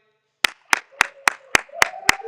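A single pair of hands clapping eight times at a steady, moderate pace, close and sharp against a quiet background, with no crowd joining in.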